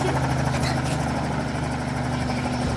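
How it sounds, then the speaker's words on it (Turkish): A helicopter in a video game gives a steady, loud rotor and engine drone that runs unbroken through the whole stretch, with no talking over it. "Benim helikopteri ben sürüyorum."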